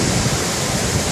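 Rushing river water on a July tour of Naran Kaghan, a dense, steady broadband roar of flowing current, close and constant throughout with no voices.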